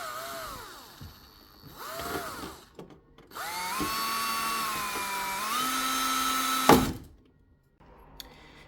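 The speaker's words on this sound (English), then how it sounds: "First I'm gonna drill a hole with a very small drill." A small electric drill with a 2 mm bit whines in bursts, pitch dipping under load as it bites into plastic, then a sustained run that stops abruptly, followed by quiet.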